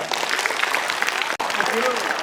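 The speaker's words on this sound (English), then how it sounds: "So big round of applause." A crowd applauds a boy at a school event, steady dense clapping throughout with voices mixed in and one brief cut partway through.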